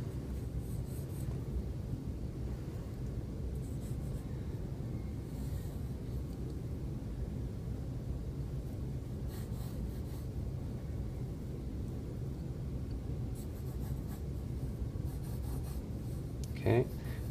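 Pencil on paper, roughing in the angles of a shoe drawing: a soft, continuous scratchy scraping with light strokes, close but quiet, under a low room rumble, ending in a brief louder tap.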